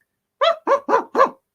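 A dog barks four times in a quick, evenly spaced series, close and clear with silence around it and no talking.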